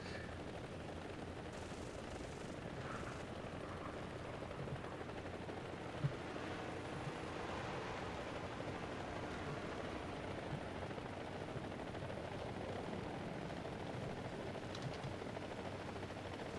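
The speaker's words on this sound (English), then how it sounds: "Just fly through all the helicopters." Helicopters flying in the War Thunder combat game produce a steady, dense rotor and engine roar throughout, layered with rumbling battle noise and occasional faint sharp gunfire cracks.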